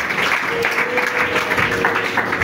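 Congregation applauding in acclaim of Jesus at a French-speaking church service, a dense, steady wash of clapping with scattered voices mixed in.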